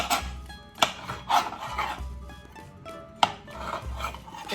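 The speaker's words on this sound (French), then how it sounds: "On coupe aussi la mangue en tranches." A knife slicing a mango on a board: repeated rasping strokes with a few sharp taps, close and fairly quiet, no talking.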